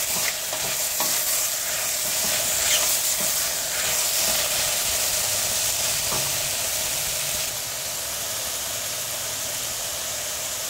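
Mushrooms and vegetables with sweet and jalapeño peppers sizzle steadily in a frying pan, a dense continuous frying hiss with scattered stirring scrapes and clicks, loud and close throughout.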